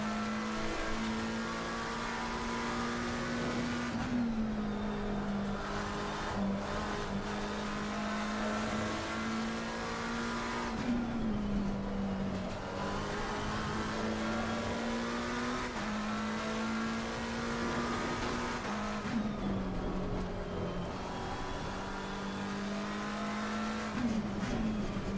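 A Lamborghini GT race car's engine in Assetto Corsa Competizione, a loud, steady high-revving drone that dips briefly under braking and downshifts roughly every seven seconds, heard close from the cockpit with no voices.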